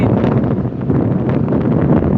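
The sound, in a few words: strong wind outdoors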